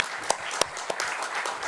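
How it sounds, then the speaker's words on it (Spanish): Applause at a book presentation in honour of those who died in care homes, a small audience clapping in a brief, irregular burst with a few sharper individual claps. "yo os pido un aplauso en estos momentos porque creo que se lo merecen todas esas personas"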